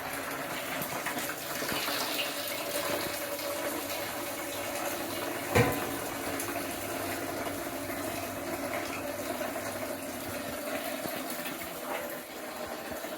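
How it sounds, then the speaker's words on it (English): Wort for an oatmeal licorice milk stout is pumped into a pressure fermenter, a steady gushing, splashing flow of liquid that continues throughout, with a single brief knock partway through and no voices. "transfer the wort"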